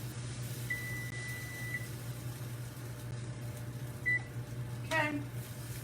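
A kitchen timer sounds for a skillet on the stove: a single long electronic beep, a short second beep, then a brief chirp near the end, all moderately clear over steady kitchen hum.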